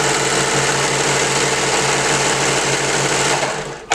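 A sewing machine stitches thin fabric in one continuous fast whirring run, close and steady, then winds down abruptly right at the end.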